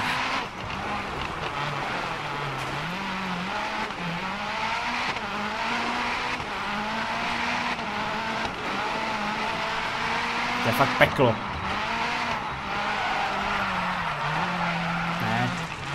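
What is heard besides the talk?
rally car skidding in DiRT Rally video game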